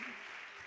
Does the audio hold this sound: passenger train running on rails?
no